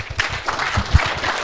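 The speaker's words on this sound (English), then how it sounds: "So please, a round of applause for Suzan." Brief applause from a small audience at an academic talk, a short burst of scattered, fairly close hand claps.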